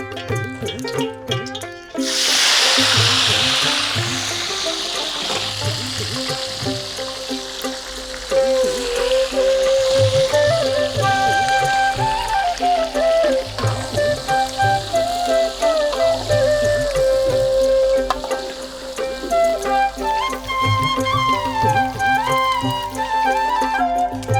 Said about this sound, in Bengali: আমরা এখন আলু ভাজবো